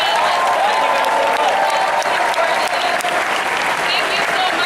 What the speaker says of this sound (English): Big round of applause for our panelists